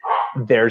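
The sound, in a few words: dogs barking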